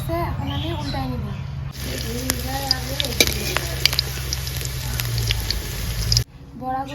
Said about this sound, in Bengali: বড়াগুলোকে উল্টা পাল্টা করে ভাজে নিলাম।